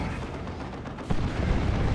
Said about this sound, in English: Demolisher Cannon strike by the Baneblade.